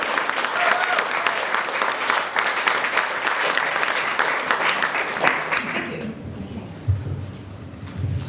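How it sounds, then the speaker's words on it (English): Applause rises from the audience at a women's professional network launch, a loud dense clatter of clapping that cuts off after about six seconds, followed by a quieter room with a voice speaking. "So Sonia really deserves a round of applause"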